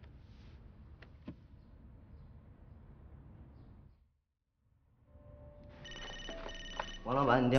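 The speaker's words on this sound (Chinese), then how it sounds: "王老板，你电话。" A telephone starts ringing indoors in a domestic drama scene, its tones entering near the end after a quiet stretch with faint background sounds.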